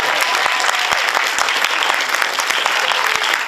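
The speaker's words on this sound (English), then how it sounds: "Let's give her a big clap for that." Live audience at a British comedy sitcom pilot Q&A breaks into brisk, close, dense clapping, an even burst of applause with no voices over it.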